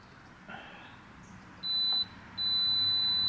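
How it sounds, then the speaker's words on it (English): A multimeter set to continuity beeps with a high, steady electronic tone while testing electrical switches on a jointer or tablesaw: one short beep of about a third of a second, then a longer continuous beep after a brief gap, over faint room noise. "I'm doing a continuity test here with the multimeter."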